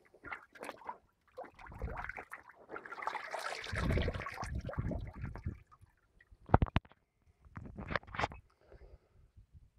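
Hessian cloth being soaked in water, with splashing, sloshing and trickling in uneven bursts and a longer swirl of liquid in the middle, close and moderately quiet.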